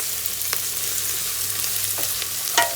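Herbs and prosciutto being stirred in a soup pot for minestrone, with a steady low sizzle and a few scraping strokes of the spoon against the pot, close and fairly quiet, no talking.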